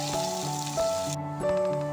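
Bitter gourd sizzles and crackles in hot oil close by, a bright steady hiss over a low humming tone that briefly drops out partway.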